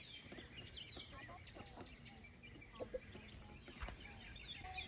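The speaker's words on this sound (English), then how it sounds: "So the hens are over there right now." Backyard hens cluck in short scattered bursts at moderate distance, set against steady outdoor background noise, with a few sharper calls standing out near the end.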